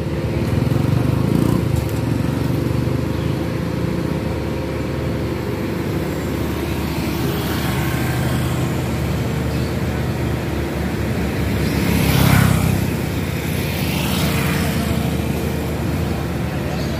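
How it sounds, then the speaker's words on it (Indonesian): Vehicle traffic at Seloaji bus terminal in Ponorogo during the pre-Eid travel rush, a steady engine rumble and drone with a passing vehicle swelling briefly, heard from nearby. "Ini di Terminal Selo Haji Ponorogo. Kondisinya seperti ini."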